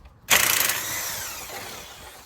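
An impact gun breaks loose an outer tie rod end on a vehicle's steering linkage while locking pliers hold the joint. One loud, abrupt burst starts sharply and then trails off steadily over about two seconds.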